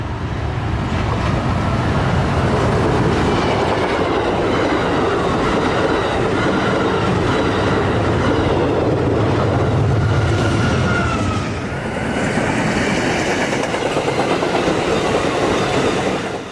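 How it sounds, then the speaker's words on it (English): A northbound Amtrak passenger train rumbles past close by on the coast at Del Mar, with continuous clattering wheels and a steady roar that persists throughout. "northbound Amtrak Extra train number 593 passes by"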